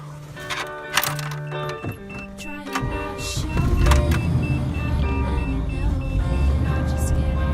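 A 1987 Toyota FJ60 Land Cruiser being cranked in the snow, with clicks and a short whirring crank before the engine catches and settles into a loud steady idle rumble. Voices are heard around it.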